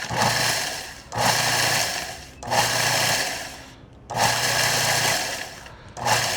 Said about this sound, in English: So now all we're gonna do is grind everything, mix, and apply it to our brisket.